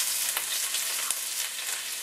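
Diced onion sizzling in bacon grease in a hot skillet, a bright, continuous crackling hiss with small pops scattered throughout.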